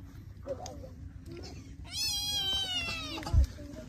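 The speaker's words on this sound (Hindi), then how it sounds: "यहाँ फिलहाल एक बिल्ली है" A cat tied up in a village home meows close by, one drawn-out wavering call followed by shorter cries, ending with a soft thump, with no speech.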